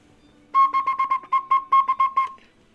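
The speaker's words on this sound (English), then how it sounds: "it's that tilting from one chamber to the other that pushes air through the whistle" A clay water whistle, tilted so water shifts between its two chambers, sings a bright warbling trill of about nine quick pulses, close and fairly loud with no voices.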